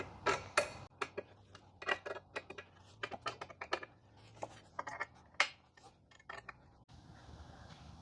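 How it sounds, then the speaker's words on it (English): A 5mm hex key tightens the bolts on a billet luggage rack mount for a Can-Am Ryker, producing close, irregular metallic clicks and ticks in short clusters against a quiet background. "take your 5mm hex and tighten them up"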